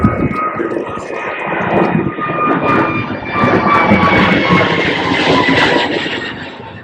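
An airplane drones loudly low overhead at Gravelly Point with a sustained engine roar and a faint high whine, holding steady throughout.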